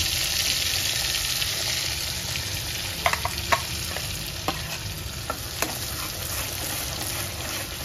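A masala paste with butter and cashews fries over a low flame as it is sautéed for a paneer mushroom masala, giving a continuous loud hiss punctuated by a few light clicks of a spoon on the pan, without talk.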